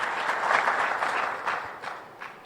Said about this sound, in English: can we have a round of applause before the Finance Minister answers the question?